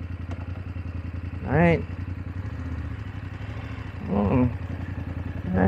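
A BMW F850GS Trophy motorcycle idles with a steady rhythmic engine chug. Two brief throttle blips rise and fall, and a short spoken word is heard.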